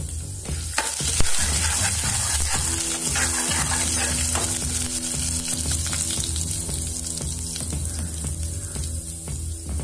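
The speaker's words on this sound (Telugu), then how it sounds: "1 స్పూన్ శనగపప్పు, 1 స్పూన్ మినప్పప్పు వేసి బాగా వేపుకోవాలి." Chana dal and urad dal frying in a pan, a continuous crackling sizzle with scraping stir strokes and a low steady hum beneath.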